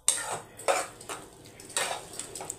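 A cooking pot of radish curry gets stirred and covered, giving several light metallic clanks and scrapes of a lid and utensil against the pot in quick, uneven succession, close and fairly quiet, with no voices.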